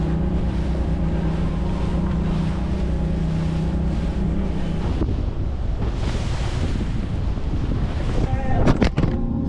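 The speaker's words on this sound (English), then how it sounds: "Waves are actually coming over the front." Rough waves slap and crash against a small boat under way in choppy open water, with steady heavy wind buffeting the microphone and a loud splash of spray near the end.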